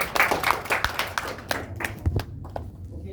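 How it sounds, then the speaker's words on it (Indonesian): Several people in an Indonesian seminar audience clap briefly in a loose, uneven patter of close hand claps that trails off within a few seconds. "Tepuk tangan dulu dong."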